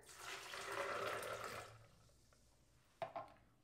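Water is poured into a container of raw unsalted cashews for a cheese sauce, a soft splashing pour lasting under two seconds, followed by a faint clink.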